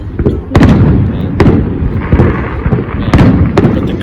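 Fireworks burst repeatedly at a show, sharp booming cracks arriving every second or so over a continuous rumble of crowd noise and crackle, loud and close.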